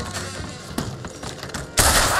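Gunfire in Red Dead Redemption 2 during a Clemens Cove standoff: a few sharp broadband cracks, one near 0.8 s and a loud heavy blast at the end, over a steady rumbling game background.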